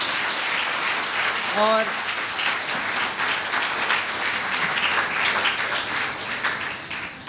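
A church congregation at a Hindi-language Sunday service applauds with steady, dense clapping that lasts throughout, and a voice briefly speaks near the start.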